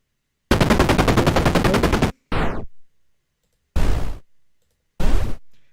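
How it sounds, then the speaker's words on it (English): Synthetic explosion sound effects generated in JFXR play as four separate bursts, the first a long rattling stutter, the others short noisy blasts that fade, with silence between them. "makes different variations of the explosion, which is very nice"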